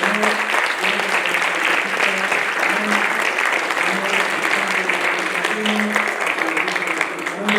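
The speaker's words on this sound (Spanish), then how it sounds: "grandes aplausos para nuestros invitados especiales" Audience at a book presentation giving sustained, loud applause for special guests, steady clapping throughout with a voice murmuring underneath.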